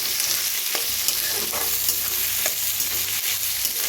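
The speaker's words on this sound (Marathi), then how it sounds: "कांदा भाजायला लागलाय आपला चांगला" Chopped spring onion frying in a pan for a Marathi home-style recipe, a loud continuous sizzle close up with faint scraping stirs, no talking.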